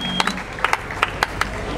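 Scattered hand claps from a crowd at the Garrotins festival for Santa Tecla in Tarragona: a handful of sharp, separate claps ringing out over a loud, busy outdoor background, irregular rather than a full ovation.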